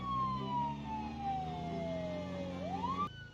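A police car siren in Project Zomboid wails steadily and loudly in one long, falling then rising tone before cutting off abruptly near the end.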